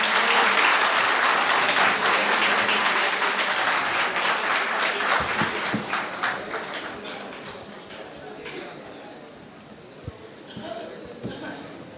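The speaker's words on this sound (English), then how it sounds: "Please give a huge round of applause to them." Conference audience at an infrastructure and ports event applauds guests walking onto the stage, a loud wash of clapping that gradually thins into scattered claps with occasional thumps.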